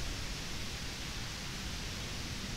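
Rain falling outdoors in woodland around a workshop area, a continuous hiss of dense, fine drops with no distinct individual hits, steady and fairly loud from start to end with no one talking.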